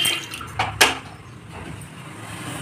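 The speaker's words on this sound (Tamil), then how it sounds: "இப்போ பருப்புக்கு தேவையான அளவு தண்ணி ஊற்றிக்கலாம்." Water poured into a pressure cooker holding washed lentils, a short splashing pour with a couple of brief louder gushes before settling into a soft continuous trickle, close by in a kitchen.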